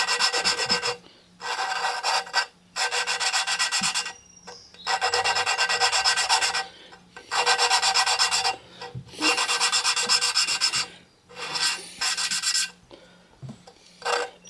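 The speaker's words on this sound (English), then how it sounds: "But you get the idea how to lap valves." Push mower engine intake valve being lapped by hand, a rhythmic dry rasping grind in repeated bursts of about a second or more, separated by short pauses, close and steady with no talk.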